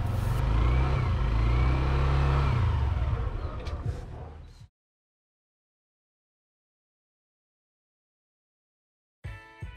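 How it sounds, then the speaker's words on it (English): A Yamaha NMAX scooter with a side stand sensor problem runs loudly and close, its engine faltering and dying out after a few seconds, followed by silence and then a brief restart clatter. "kung maririnig nyo, parang nabibitin or nabibilaukan yung makina. Hanggang sa mamatay siya"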